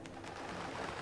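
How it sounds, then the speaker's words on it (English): Bird cooing from the Sonic Unleashed town stage, soft and steady across a short stretch of ambient game sound, fairly quiet with no talking over it. "Birds!"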